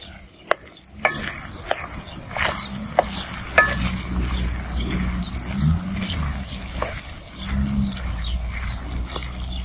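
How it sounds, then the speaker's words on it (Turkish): Onions and peppers sautéing in a pan, a low steady sizzle broken by scattered clacks and scrapes of a spoon stirring, fairly quiet and close. "Öncelikle soğan ve biberle birlikte kavrulmaya bırakacağız."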